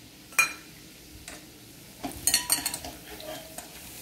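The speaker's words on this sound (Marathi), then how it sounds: "तेल गरम झालेलं आहे। आता गॅस बंद करून देऊया आणि हे मसाले" Spices go into hot oil with the gas turned off for bhadang, a Sangli-style puffed-rice snack: a few sharp clinks of a spoon against the pan, then a brief burst of sizzle and stirring, close up.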